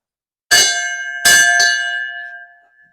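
Bell on a 1918 American-LaFrance Model T chemical fire truck, struck three times in quick succession, loud and close, each clang ringing on with a clear sustained tone that slowly fades.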